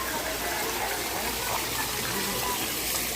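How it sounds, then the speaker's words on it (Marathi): Water flowing at a dam makes a constant, broad rushing roar, steady and fairly loud without breaks, with no voices. "पाणी आहे, धरण आहे."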